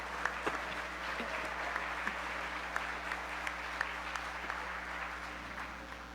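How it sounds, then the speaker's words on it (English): An audience claps steadily and warmly after a lion dance performance at a club inauguration event, with a dense, even patter of hands over a low hum and no talk. "Warm applause."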